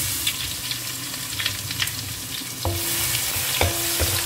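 Crushed garlic spits and sizzles in hot oil with mustard seeds, a steady bright crackle broken by a few sharp pops and spoon scrapes, close and continuous with no talking.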